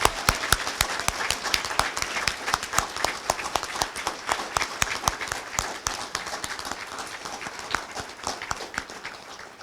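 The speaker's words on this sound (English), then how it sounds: "Please join me in one more very large round of applause to the youth of Iowa City." A large audience applauds youth award winners at the 2023 Youth Human Rights Awards in Iowa City, dense rapid clapping with many individual sharp claps close by, sustained and gradually thinning toward the end.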